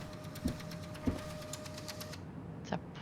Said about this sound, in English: It's a printer, right? That's making that noise.